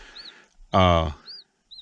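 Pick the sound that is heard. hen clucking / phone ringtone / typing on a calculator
hen clucking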